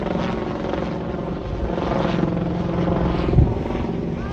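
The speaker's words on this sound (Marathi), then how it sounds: "हेलिकॉप्टर बघत बसले" A helicopter flies overhead near a lake, a steady, fairly loud rotor drone with a rough chopping texture that persists throughout with no talk.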